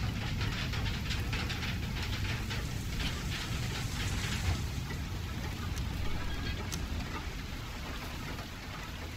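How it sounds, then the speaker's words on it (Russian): Hail pelting down in the video game FAR Lone Sails, a dense continuous rattling patter that stays steady and fairly loud throughout, with no voices. "смотрите, град. Град пошел."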